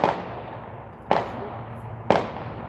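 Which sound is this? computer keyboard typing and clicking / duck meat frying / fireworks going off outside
fireworks going off outside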